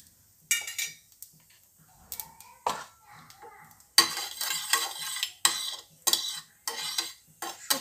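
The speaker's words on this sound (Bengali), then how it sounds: "এবার ওই তেলের মধ্যে শুকনো লঙ্কা আর কালো জিরা ফোড়ন দিচ্ছি" Dried red chillies and black cumin crackle in hot oil, with a metal spoon clinking and scraping against the pan in bursts, close and clear, with light sizzling between strokes and no voices.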